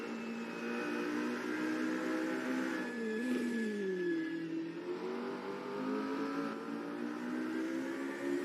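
A McLaren race car in a virtual racing game holds a steady engine drone, its pitch dipping and climbing as it shifts and accelerates through a lap, clear and continuous with no voices.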